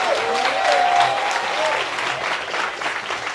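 Loud, thunderous crowd applause at a political rally stand at the Fête de l'Humanité, dense sustained clapping with some whistles and cheers, fading slightly toward the end.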